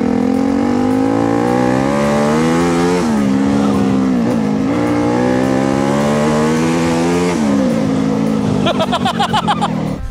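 A turbocharged motocross bike engine runs loud and close, its pitch rising and dipping with several gentle revs, then breaking into a rough, stuttering pulse near the end.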